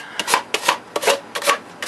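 Rhythmic back-and-forth scraping of sandpaper on wood, about eight quick, close strokes in a steady rhythm with no talking.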